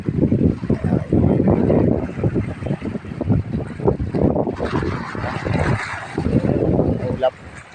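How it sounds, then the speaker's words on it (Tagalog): Strong coastal wind over rough sea buffets the microphone in a steady roar, with people talking over it throughout. "Lakas ang hangin."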